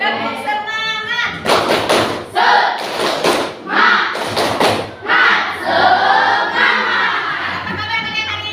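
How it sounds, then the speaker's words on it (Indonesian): A class doing tepuk semangat, a spirited rhythmic clapping routine, with bursts of hand claps and thumps in a set pattern alongside voices chanting together. The room is lively and close. "Supaya lebih semangat kita tepuk semangat dulu ya"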